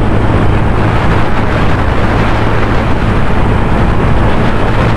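A 2024 Yamaha FZS V4 motorcycle pulling hard in top gear past 6000 RPM, with a loud, steady engine drone under heavy wind rush on the microphone. There are no voices.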